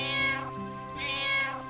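A pet cat meows twice indoors, long drawn-out cries close to the microphone with a short gap between them and no talking.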